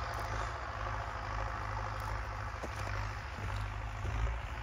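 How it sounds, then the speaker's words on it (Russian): An MTZ tractor working a field harrowing virgin soil runs with a steady low engine drone and rough mechanical rumble, heard continuously from nearby without speech. "Так, трактор газует."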